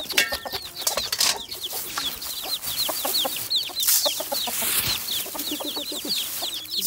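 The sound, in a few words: hen with chicks clucking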